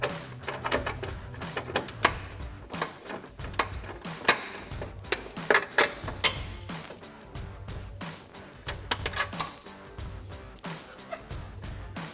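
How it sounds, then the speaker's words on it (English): A 1/4 inch ratchet with a shallow 10mm socket clicks in quick, uneven bursts of sharp ticks while working on a Chevy Sierra 1500 exhaust install, close and fairly loud throughout. "Now I'm switching to a 1/4 inch ratchet with a shallow 10mm socket to make this a little bit easier"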